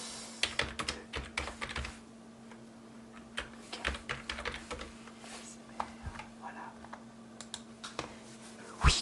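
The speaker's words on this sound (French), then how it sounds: "comme ça il y a les touches du clavier" Computer keyboard keys tapped in an ASMR setting, irregular clusters of crisp clicks and clacks with short pauses between bursts, close and quiet, ending with a brief spoken word.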